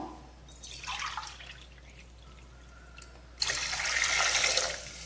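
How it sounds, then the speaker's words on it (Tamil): Water pours in two bursts into a pot of rice, a short splashy stream, a pause with light trickling, then a longer, louder pour. "இதில் கொஞ்சம் தண்ணி சேர்த்து அரிசிக்கு ரெண்டு டம்ளர் அப்படிங்கிறது ரெண்டரை டம்ளர் ஊற்றணும்"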